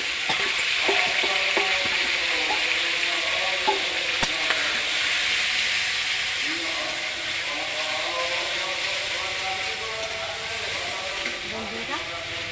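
Spice masala frying with prawns in a pan, a continuous hissing sizzle with stirring clinks and scrapes. A voice talks over it now and then.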